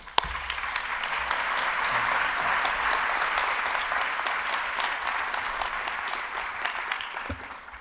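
Sustained audience applause welcoming a panel onto a caregiving stories stage, a dense steady clapping that swells quickly, holds for several seconds and then tapers off, with no talking over it.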